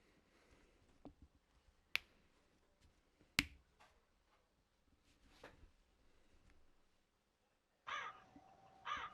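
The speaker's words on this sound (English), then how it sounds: "There's some crows." Crows caw in a rural outdoor setting, a few scattered calls at a distance with sharp nearby clicks, then louder harsh caws near the end.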